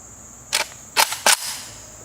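Three sharp AK rifle shots at a steel plate target, fairly close and cracking, the last two in quick succession, with a faint echo trailing off.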